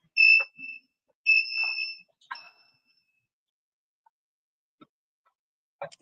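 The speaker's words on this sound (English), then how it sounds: "They must got this alarm on test mode because it's testing my patience" Smoke alarm chirping loudly in short high-pitched piercing beeps, two long bursts then shorter tones, followed by quiet with a few faint clicks.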